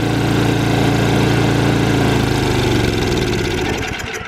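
A small Tecumseh snowblower engine, taken off choke, runs loud and rough for a few seconds, then stumbles, slows and fades as it dies.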